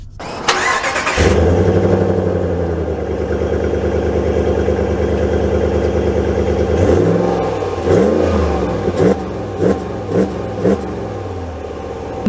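A Ram Limited pickup truck with the 5.7 Hemi V8 starts up loudly, idles with a deep steady rumble, then revs and accelerates in several rising surges, close and loud, with no talk.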